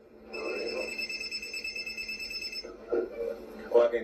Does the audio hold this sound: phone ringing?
yes